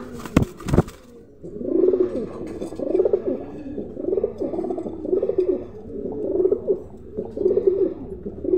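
Red Lahori pigeons coo in a steady, repeating rhythm of soft throaty calls, close by, after a brief sharp knock at the start; a pair of male and female birds.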